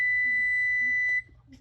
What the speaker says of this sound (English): we're gonna go ahead and turn off the timer.